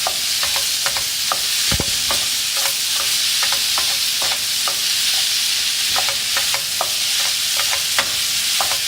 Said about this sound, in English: So just a wooden spoon to move that around.